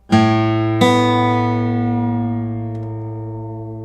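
Two guitar strings, the 5th and 2nd, plucked one after the other, both tuned to A and sounding the same pitch, ringing out together, slowly fading with no voices.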